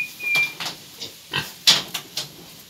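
Short pig grunts in a farm pen, a few brief snorty bursts spaced irregularly over quiet background, fairly close and moderate in loudness.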